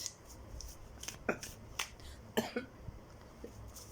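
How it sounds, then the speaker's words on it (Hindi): Several short, sharp coughs sound in quick bursts close by, separated by brief quiet gaps, with no talking. "सॉरी गाइस, तबीयत ठीक नहीं हो रही, मेरी खांसी हो गई।"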